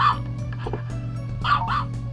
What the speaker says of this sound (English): I hate when you can hear the bark and the echo.